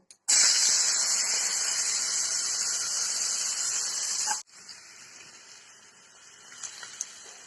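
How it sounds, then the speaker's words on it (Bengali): Onions tossed into hot oil in a wok set off a loud, steady hissing sizzle for several seconds, which then settles into a quieter, continuous frying crackle. "এবারে কড়াতে তেল দিয়ে দিয়েছি। এবারে আমি পেঁয়াজ দিয়ে দেবো"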